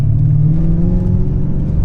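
A BMW M5 E39 sports sedan accelerates with a loud, close, deep engine rumble and a steady rising drone from inside the cabin.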